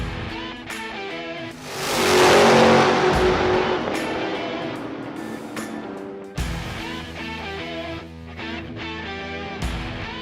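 A modified Vauxhall Victor race car engine revs hard, swelling to a loud roar then settling into a steady running drone, with car noise throughout.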